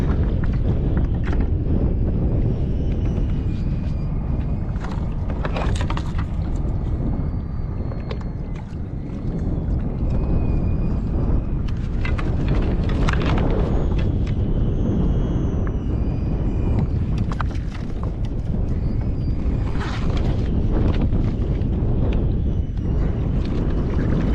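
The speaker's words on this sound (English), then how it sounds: "you can hear the wind picking up" Steady wind buffets a fishing boat on the water in Florida, a loud, continuous rushing roar across the microphone that swells and eases slightly but never drops away, with no talking.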